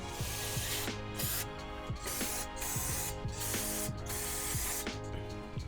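Cleaner sprayed around the engine area of a 6.7 Powerstroke diesel during an oil change, a steady hiss carrying through the clip with faint mechanical clicks and rhythmic ticking underneath.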